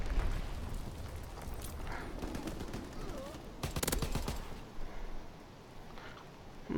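Grenade blasts and gunfire crackle across the map in a competitive shooter match, a dense, continuous barrage with one sharper burst near the middle, all under steady commentary.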